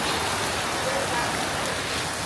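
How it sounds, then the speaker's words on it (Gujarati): A dense, steady downpour falls on Surat during monsoon flooding, with raindrops hissing close by on surfaces in an unbroken wash of sound. "કેવો મસ્ત વરસાદ આવે છે"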